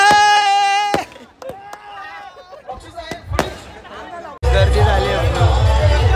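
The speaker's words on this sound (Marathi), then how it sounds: "गर्दी झाली आहे पूर्ण प्रेक्षकांची फोटोसाठी" A crowd of spectators mills about for photos after a final match, with chatter and babble building into a loud, dense roar of many voices. Before that a near voice and tonal sounds stand out over quieter background hubbub.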